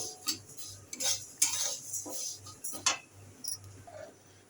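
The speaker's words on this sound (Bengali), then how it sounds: "ডালটা আমি হালকা করে ভেজে নেব।" Moong dal dry-roasted in a hot wok and stirred with a metal spatula, producing a series of close clinks and scrapes in an uneven rhythm over a faint low hum, no voices.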